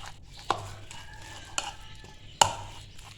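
Egg sandwich filling being stirred with salt and black pepper in a bowl, soft scraping with three sharp utensil clicks against the dish, close and fairly quiet, no talking.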